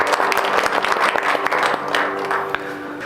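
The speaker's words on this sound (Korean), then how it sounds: "이곳에 불러주신 하나님께 영광의 박수를 드리겠습니다" A church congregation gives a round of applause during a worship service, a broad continuous wash of many hands clapping that holds steady and eases slightly toward the end.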